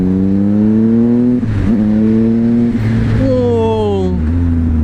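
A Triumph Speed Triple RS motorcycle engine revs up repeatedly, its pitch climbing in smooth steps and dipping between pulls, loud and close throughout with no talk over it.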